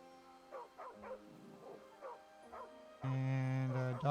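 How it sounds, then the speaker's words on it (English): Dog and wolf sounds from the video game AFK Journey: several short, quiet yips and whimpers, then a loud sustained tonal burst toward the end, with no talking. "And a dog and a wolf."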